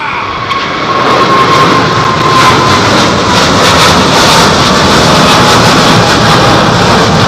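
An airliner arrives at London Heathrow on a windy day, its loud jet roar building within the first second and then holding strong and close, mixed with wind rush and no speech.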